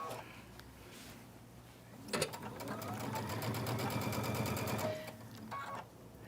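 A sewing machine stitches layer cake quilt pieces, one steady continuous run of needle chatter lasting about three seconds, with quieter room noise before and after.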